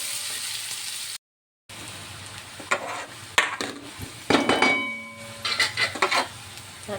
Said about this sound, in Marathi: त्याच्यात टाकले काळे जिरे आणि कांदा